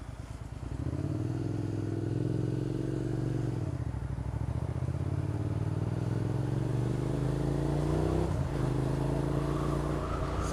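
A motorcycle rides through Seattle morning rush hour traffic, its engine droning steadily with rising and falling revs, a brief dip near four seconds, and traffic noise around it.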